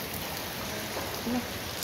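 Rain falls on a balcony as a soft, continuous hiss of drops, steady and fairly faint, with no talking.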